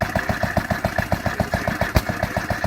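An old International stationary engine running a shingle saw at a gas and steam show, putting out a steady, rhythmic low chugging pulse at close range, with one sharp knock partway through.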